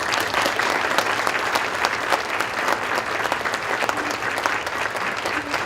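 Dense, steady applause from an audience at a college student awards ceremony at Carl Sandburg College, honoring two student conference champions, with continuous clapping filling the whole stretch and no pauses.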